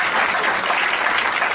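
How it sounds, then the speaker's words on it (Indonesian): A church congregation gives a loud, dense burst of applause during a sermon, many hands clapping together continuously and close. "Tepuk tangan buat Tuhan."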